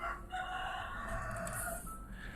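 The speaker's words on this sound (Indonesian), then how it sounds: "dapat salam dari ayam di luar" A rooster crows outdoors, faint and distant, in one drawn-out call over steady background hum.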